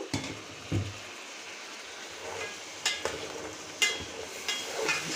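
Stalks and spices sizzle steadily in a pan for a Bangladeshi homemade fish curry, with soft frying hiss throughout and a few sharp stirring scrapes and clinks, no talking.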